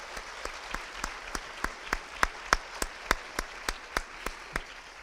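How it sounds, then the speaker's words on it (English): Sparse, rhythmic clapping from a small audience at a ballet young dancers competition's finals and awards, honoring the judges; fairly quiet, with distinct evenly spaced claps and no talk. "So one more round of applause for the judges and what they've offered."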